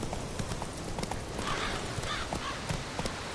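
Hoofbeats of Roach, the horse in The Witcher 3, a quick irregular clip-clop of hooves close by that continues steadily under faint background ambience.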